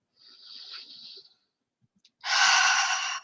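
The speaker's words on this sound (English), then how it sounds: "It is good to breathe in through the nose and breathe out through the mouth" Two breaths during a guided meditation: a soft, airy inhale near the start, a pause of silence, then a louder, fuller breath out that runs close and steady to the end, with no talking.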